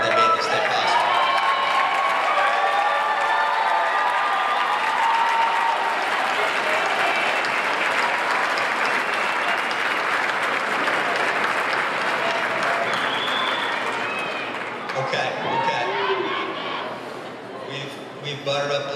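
A crowd at a 2018 high school graduation ceremony gives loud, sustained applause, with dense clapping and some cheering mixed in, tapering off toward the end.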